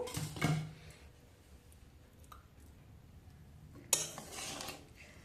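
Cauliflower biryani being stirred and lifted out of a pot, giving a few soft spoon-and-metal scrapes and clinks, a louder pair near the start and another near the end, quiet in between with no talking.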